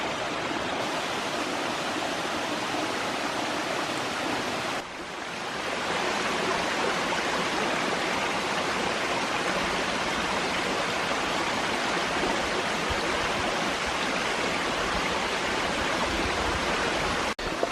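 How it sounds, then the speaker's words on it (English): Creek water rushes steadily past small waterfalls at a spring-fed nature preserve in Tennessee, a dense, continuous broadband wash that stays loud and close throughout with no voices, dipping briefly before resuming. "walk back down the creek bed instead of underneath the waterfalls again"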